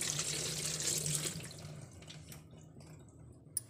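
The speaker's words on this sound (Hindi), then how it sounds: "अब इसे हम थोड़ा पानी ठंडा डाल देंगे।" Cold tap water pours over pasta in a steel strainer, a close, steady splashing rush in a kitchen that tapers off, ending with a few drips and a small clink.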